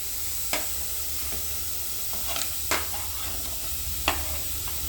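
Okra goes into a pan of onions cooking in a little oil, a soft even sizzle broken by a few isolated sharp scrapes and taps of stirring, with no voices.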